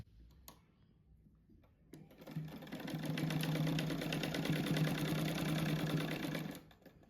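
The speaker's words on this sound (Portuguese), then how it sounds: "agora eu vou costurar do jeito que tá aí, então" A sewing machine stitches a cushion, a quiet start with a few clicks before the motor runs up into a steady, close whirring hum for several seconds and then stops abruptly.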